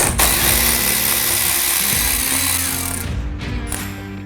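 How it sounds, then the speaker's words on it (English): Powered socket tool spinning out a size 10 bolt from under the plastic valance trim of a Bronco during tail light work, a steady loud whirring buzz for about three seconds, then stopping, with no talking. "there's a size 10 bolt that needs to be removed here underneath this plastic valance trim. So we'll take our socket."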